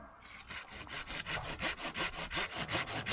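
A plum tree branch being cut by hand in a village garden, a steady rhythmic rasp of strokes back and forth, close and fairly quiet with no voices.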